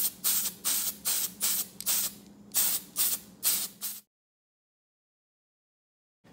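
Spray paint going onto a Traxxas TRX-4 Sport RC car body in a light coat of black, about ten short, close hissing bursts in a quick rhythm, then silence.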